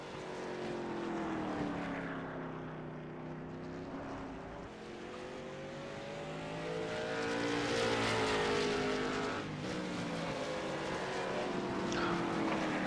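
Race cars in a Friday night Bump 'N Run event at Martinsville Speedway drone continuously, their engine pitch sweeping up and down as the field laps past, with no talking.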